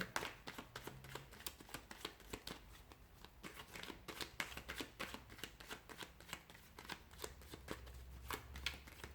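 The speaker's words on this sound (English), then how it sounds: "let's begin by giving the cards a shuffle" Tarot cards being shuffled in a steady run of crisp, papery riffles and flutters, fairly quiet and close, with no talking.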